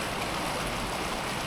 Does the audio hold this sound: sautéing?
no